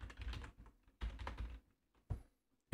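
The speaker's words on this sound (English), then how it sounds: "you want to type a password that you would like to use on this website" Password keys tapped on a keyboard while signing up on a website, coming in three short bursts of quick, close clicks separated by brief pauses.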